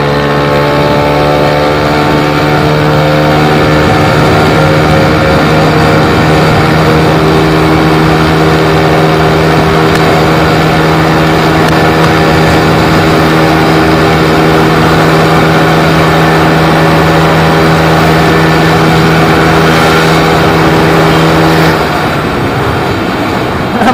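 A Yamaha Lexi 155cc scooter engine revs hard and steadily for a long stretch, loud and close, with a sustained high drone before easing off near the end.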